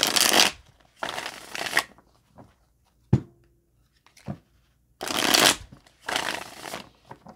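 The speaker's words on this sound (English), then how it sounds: "I'm just going to pull three cards." A deck of tarot cards is shuffled in several rustling, papery bursts, with a few light taps and card flicks in the quieter gaps between them.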